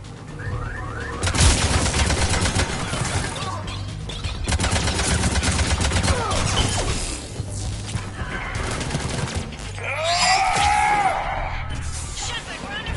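Sci-fi gunfire in the game Mass Effect 3 crackles in dense, sustained bursts through a battle, layered with music and sweeping effects while voices speak over the combat.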